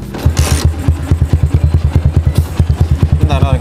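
A CB motorcycle, compared with a Honda Supra Fit Millennium, revs close by with the throttle opened, its exhaust pulsing in a rapid, steady beat that stays loud for the whole stretch.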